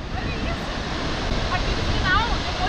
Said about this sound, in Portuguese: Olha o tamanho da força da água, gente.